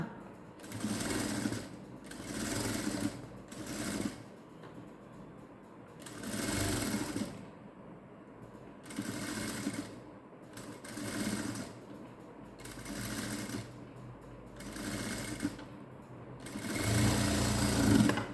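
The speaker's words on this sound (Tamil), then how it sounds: "இப்போ இந்த பக்கம் சைடையும் நம்ம ஸ்டிச் பண்ணிக்க போகிறோம்" A sewing machine stitching the side seam of a princess-cut V-neck blouse runs in repeated short bursts of rapid whirring, separated by brief pauses, close by and moderately loud.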